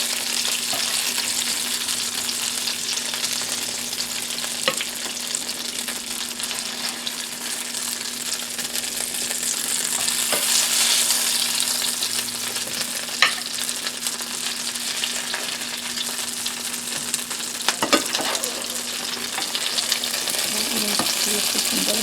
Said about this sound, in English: Flipping them over because that side will be coated really good with butter